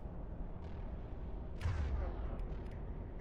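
Gunfire in Mass Effect 1 Legendary Edition comes as a few distant, muffled booming shots, with one stronger blast in the middle. Quieter cracks follow over low background rumble.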